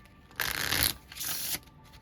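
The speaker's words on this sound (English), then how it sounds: "Can I get one here? Let me shuffle." Tarot cards being shuffled during a reading, with two quick riffling bursts, the first louder and the second slightly softer, close to the microphone with a brief pause between them.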